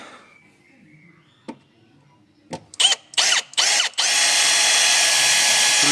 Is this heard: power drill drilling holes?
yes